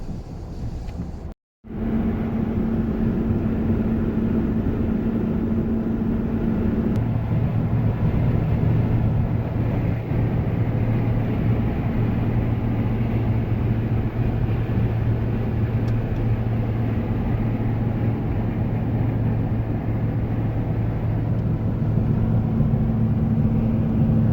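A Chevy truck hauling a tank across a rough field, a steady low engine drone with rumble and wind buffeting heard continuously from inside the cab, broken only by a brief dropout near the start.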